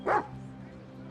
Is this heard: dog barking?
yes